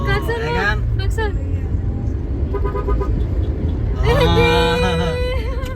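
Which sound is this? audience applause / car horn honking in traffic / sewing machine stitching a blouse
car horn honking in traffic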